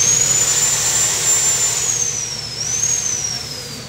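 A Honda CB400 Spec 4 fitted with its original long exhaust pipe gives a steady, loud, close roar topped by a high whine that dips and rises, with no other sound over it.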